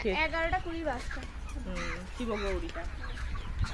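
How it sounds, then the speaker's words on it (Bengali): Chickens clucking on a large poultry farm with thousands of birds, a near flock giving repeated clucks and calls throughout, heard alone. "হাজারের হাজারের মুরগি আছে"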